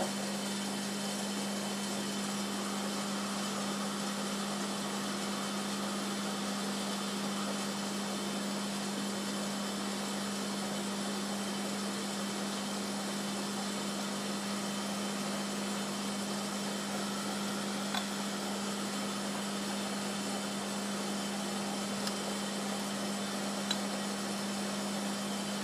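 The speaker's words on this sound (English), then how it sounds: "I've set up a small vacuum filter apparatus, and I will now filter the copper aspirinate." Small vacuum filtration apparatus running while copper aspirinate is filtered: a constant low mechanical hum with steady hiss, faint and unbroken, with a couple of tiny clicks near the end.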